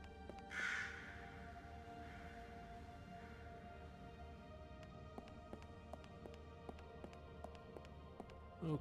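A single raven caws once near the start in the puzzle adventure game Lost Horizon 2, then quiet footsteps or taps tick along over a low hum of game ambience.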